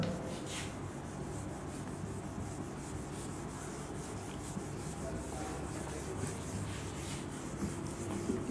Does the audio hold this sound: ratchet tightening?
no